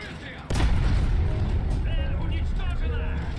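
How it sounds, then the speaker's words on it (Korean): A Leclerc tank's fuel tank explodes in War Thunder with a sudden sharp boom, followed by a sustained roaring rush of fire and mechanical noise, while voices talk over it. "연료탱크 폭발."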